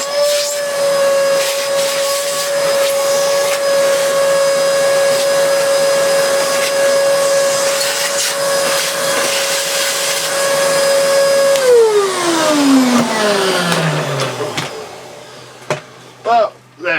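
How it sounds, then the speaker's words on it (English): A Hoover Purepower U3440 upright vacuum cleaner runs with a loud steady whine, then winds down with a falling pitch as it switches off, followed by a few clicks and knocks. "That's a great design, Hoover."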